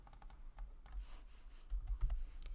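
Quiet computer keyboard typing, with soft, irregular key clicks coming in short bursts and gaps.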